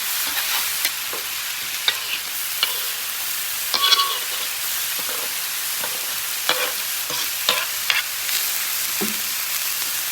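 Chorizo and vegetables frying in rendered grease on a Blackstone griddle hiss in a constant close sizzle, broken by scattered spatula scrapes and taps on the flat-top, and no one speaks.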